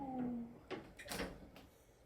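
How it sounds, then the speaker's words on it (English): Sliding doors in a holiday rental bathroom glide and knock shut, giving a few short, quiet scrapes and thuds close by, with some faint background sound before them. "slidey doors"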